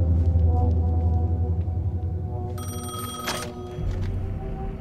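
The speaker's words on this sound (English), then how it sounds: "The telephone's ringing." A telephone rings in the video game Alan Wake 2, a short bright bell burst cutting in partway through over a low, droning ambient rumble, with no talking.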